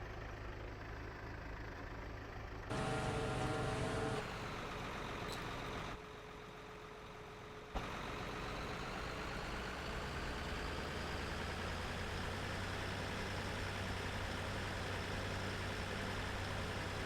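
A tractor engine idles in the video game Farming Simulator 2013, a steady, moderately loud drone with a low hum that runs unbroken, with a brief louder shift early on.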